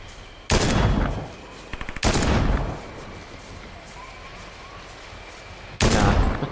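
Fortnite gunfire erupts in loud, dense bursts: a long volley at the start, another midway, and a third near the end, with quieter battle ambience between.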